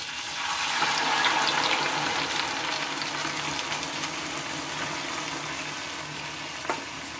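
Mustard paste going into a hot pan for an egg dish, giving a steady close sizzle and hiss that carries on evenly, with a soft clink near the end.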